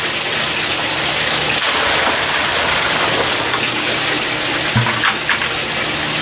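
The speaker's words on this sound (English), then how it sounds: "I'm going to throw a 5-gallon pail of just plain water in" Plain water from a 5-gallon pail poured into garden barrels, a loud continuous gushing splash that holds steady for several seconds, with no talking.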